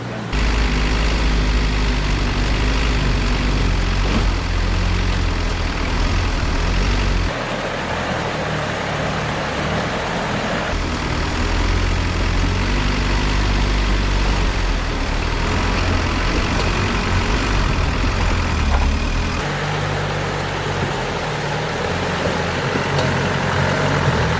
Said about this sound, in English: You can see and hear the tyres slipping as they're going down over the rock.